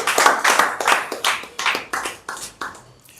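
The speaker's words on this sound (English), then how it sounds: "Please clap for us." An audience at a pre-conference press briefing in Nigeria claps, starting as a dense burst of many hands and then thinning into fewer, slower claps that fade out, with no speech.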